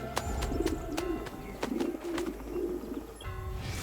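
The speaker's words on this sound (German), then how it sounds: "Es gurten die Tauben" Pigeons coo in Assassin's Creed Brotherhood, soft repeated throaty coos over a light ambient city background with occasional clicks.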